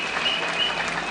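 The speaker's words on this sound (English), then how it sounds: "Let's give him a clap." A crowd of mourners at a burial service claps for Eugene Wamalwa, a brief burst of dense, steady applause.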